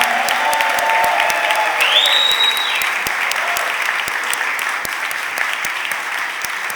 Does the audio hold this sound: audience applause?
yes